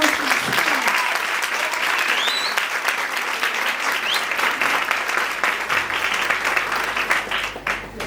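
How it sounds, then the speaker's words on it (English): An audience applauds the graduating grade 12 class at a secondary school awards function, a loud, sustained round of clapping that fades slightly toward the end. "Can we have a round of applause?"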